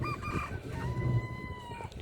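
A chicken makes a few high, drawn-out calls over a steady background rumble, fairly close but partly masked by the noise.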